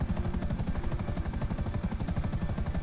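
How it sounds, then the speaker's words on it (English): Helicopter in the video game GTA V, a steady rapid rotor chop pulsing evenly throughout, loud and close with a constant engine whine underneath. "make sure you don't damage your helicopter"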